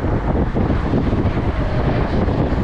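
Headwind buffets the microphone while cycling across the Champlain Bridge in Canada, a loud, constant rumbling roar of wind noise that fills the clip, with no talking.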